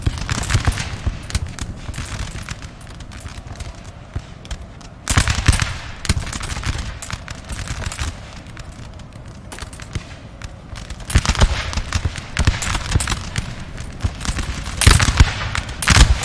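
Musket volley fire in the video game Napoleon Total War, with crackling rippling volleys rising in several loud surges over a continuous din of distant shots.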